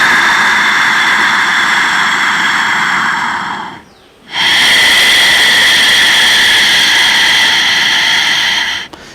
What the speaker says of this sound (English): all the breaths that I took here was all breathing with throat sound like this